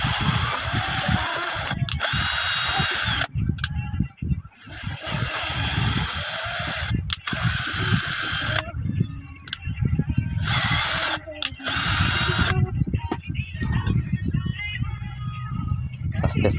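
A power drill threads the four corner holes of a homemade 12V electric fan frame, with loud whining bursts that start and stop repeatedly, broken by short pauses and mixed with talking.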